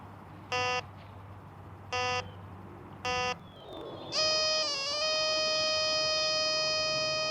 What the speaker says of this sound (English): Metal detector.